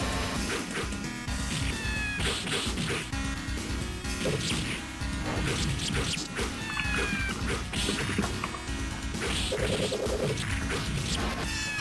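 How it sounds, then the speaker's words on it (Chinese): Cat meows ring out repeatedly over busy game music in the arcade game Denshin Makai 2, mixed with smashing hits and swooshes throughout. "好，这有个喵星人"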